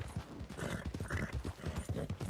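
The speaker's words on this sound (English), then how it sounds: "I hear horses." Horse hooves clip-clop in a steady galloping rhythm in a western role-play video game, close and fairly loud throughout the whole stretch with no talk over it.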